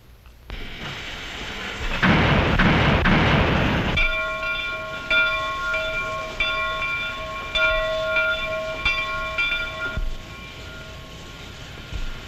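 Locomotive train on the move, loud rumbling rolling noise with a burst of hiss, then sustained tonal squeals and rhythmic clanks over a continuous rumble, near and steady.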